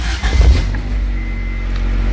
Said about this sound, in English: when I start up the car